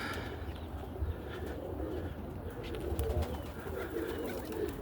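Pigeons coo in low, repeated throaty calls, close by, with a few faint chirps and soft background noise.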